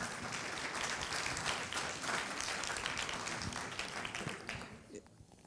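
A lecture audience applauds the speaker, dense sustained clapping from many hands filling the room at moderate distance before fading out at the end.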